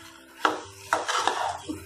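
Vegetables and spices being stirred in a pan while cooking mixed veg with paneer, with a few distinct clanks of a spoon against the pan and light scraping in between, close and fairly quiet.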